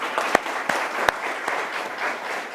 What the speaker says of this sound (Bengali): আমরা সবাই একটা করতালি দিই তাদের জন্য